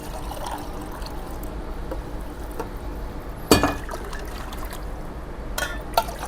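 Water pours into a pot of beef pulao as a low, steady trickle and splash, with a few sharper clinks and bumps of the pot along the way, no voices over it.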